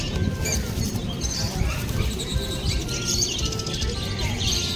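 Exotic pet birds at a Dakshineswar bird market in Kolkata chirp and tweet repeatedly in a busy, steady chorus, with faint talk and market bustle underneath.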